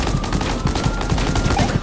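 Rapid gunfire from the GTA 5 video game, a dense run of repeated shots spread steadily through the moment with a busy game background.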